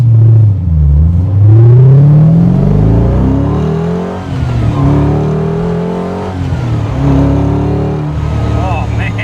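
A 1999 Shelby Series 1 sports car engine revs and accelerates hard up through its gears, loud and close, with people talking over the engine noise.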